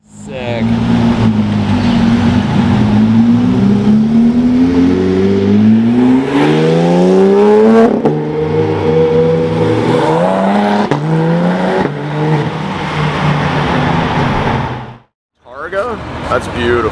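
A yellow Porsche GT3 RS accelerates hard past a close vantage point, its flat-six engine rising through the revs in loud sweeping pitch climbs, with excited chatter from onlookers mixed underneath.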